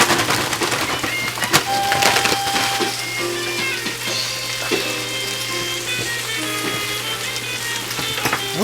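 A whole bag of spinach sizzles in a hot pan, making a steady close hiss with crackles and clattering clicks throughout.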